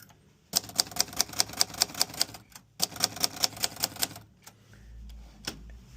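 Hermes 3000 manual typewriter clatters in two quick bursts of sharp, close, rhythmic clicks as paper is fed in, separated by a short pause and followed by a low rumble.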